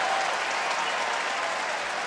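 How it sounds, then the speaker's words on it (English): Dense, steady applause from a large crowd at a Marlins versus Dodgers baseball game, a continuous wash of distant clapping filling the stadium at even loudness. "Maybe the applause will relax him a little bit."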